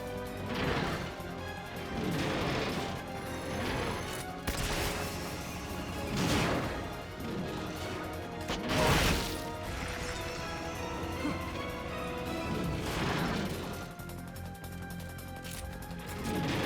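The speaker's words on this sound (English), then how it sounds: "You destroyed the machine gun." A machine gun is destroyed in a video game amid busy game audio, with repeated crashing, smashing bursts spaced every couple of seconds.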